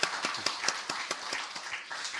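A congregation claps together at a church service, a short burst of scattered applause held at moderate distance.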